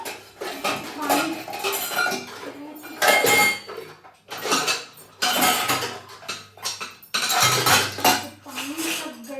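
Repeated clanks and scrapes of metal dishes and a milk pot being washed in a home kitchen, in several loud bursts separated by short pauses, with no talking.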